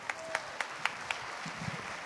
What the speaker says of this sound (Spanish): Le damos un aplauso a la modelo.